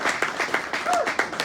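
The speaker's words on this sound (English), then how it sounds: "Please continue to clap and applause for Patricia and Moses." An audience claps for Patricia and Moses at an award ceremony, a steady patter of hand claps from a crowd, fairly close, with a voice speaking over part of it.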